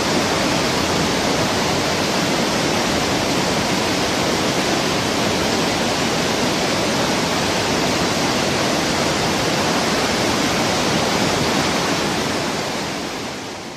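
Vøringsfossen waterfall in Norway roars as a dense, loud, constant wash of falling water, broadband and unbroken throughout before fading slightly at the very end.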